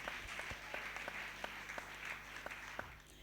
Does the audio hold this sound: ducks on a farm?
no